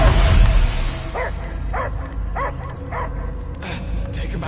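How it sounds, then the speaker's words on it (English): A dog barks in a short series of evenly spaced yips and woofs, moderately near, over a constant low rumble of background sound effects and music in an action movie scene. "I hear only barking."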